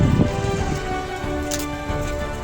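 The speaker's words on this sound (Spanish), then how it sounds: "Y está empezando a llover" Rain begins falling outside a house porch in Cuba, a soft, steady patter that runs continuously with no voices over it.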